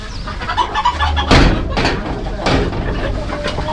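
Chickens clucking close by in a farmyard, with short bursts of bird calls and some knocking between them, while people talk over the sounds.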